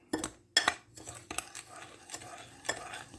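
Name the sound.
mixing sugar and powdered pectin together in a bowl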